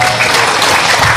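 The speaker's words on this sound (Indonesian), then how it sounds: "Boleh tepuk tangan buat kita semua yang hadir di luar." Outdoor audience at an Indonesian religious sermon in Kuningan clapping together, a dense steady burst of applause at close range with no talk over it.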